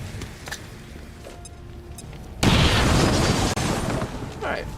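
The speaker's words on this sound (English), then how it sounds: "I actually have to grenade him." A grenade goes off in the video game XCOM 2. One loud, heavy boom cuts in midway after quieter game sounds and rumbles on briefly before fading.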